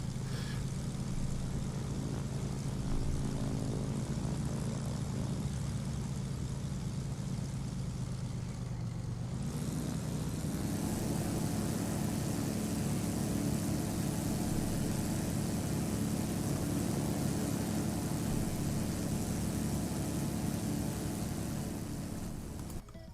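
Vintage three-engine jet aircraft in Airport CEO drone steadily, a continuous engine hum that rises and thickens partway through, then holds at a louder, fuller pitch.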